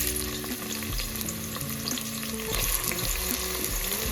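Onions sizzling in hot oil in a pan for a chicken stew, a steady close frying hiss with faint stirring, with a low tonal hum running beneath.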